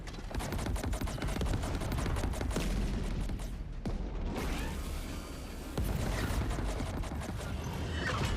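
Spaceship weapons firing in the space combat game Chorus: a dense run of rapid mechanical bursts and crackling shots, loud and continuous, with a brief dip midway before the barrage resumes.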